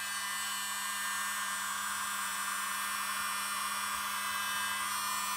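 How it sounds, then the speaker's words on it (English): A small leaf blower blows over poured paint with a steady, loud, continuous whine and airy hiss, plus a constant low hum, running without pause and with no talking. "He's using a little leaf blower"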